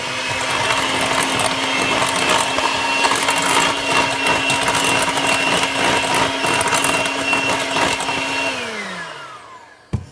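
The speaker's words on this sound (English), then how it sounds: "I'm just going to crack one in here and blend it with my mixer" An electric mixer blends an egg into butter for banana bread batter, giving a steady, close motor whir that runs without a break, then winds down and stops just before the end.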